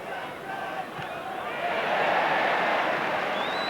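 A football stadium crowd at a Liverpool v Stoke City match roars in reaction to a tackle, a broad distant swell of voices that builds and holds, with a commentator talking over it.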